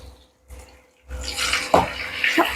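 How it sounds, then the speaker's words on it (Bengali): An egg frying in a pan together with peas and noodles gives a steady sizzling hiss. It rises after a short quiet start, with a couple of soft clacks in it. "ডিমটা দিয়ে সবগুলো একসাথে আমি ভাজি করে নিচ্ছি"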